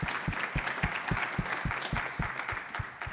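Audience applause at the close of a panel on AI threats, moderate and steady clapping throughout, with sharp individual claps standing out over a dense wash.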